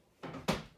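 The lower cabinet door of a 2021 Keystone Carbon 358 toy hauler RV kitchen opens with a brief soft rattle and then a single sharp wooden knock, close and quick, with no speech.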